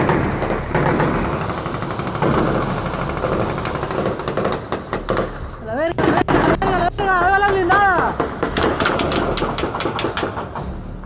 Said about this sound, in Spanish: Resulta aterrador escuchar ese nivel de estruendos y esa cantidad de disparos